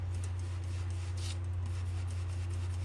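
A large brush drags over fragile, newspaper-like paper laying down ink, making soft, close rubbing strokes over a steady low hum.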